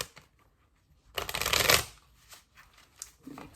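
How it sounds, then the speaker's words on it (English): A quick burst of cards riffled and shuffled, loud for about a second, followed by a few soft taps and rustles. "Fast forward through the shuffling."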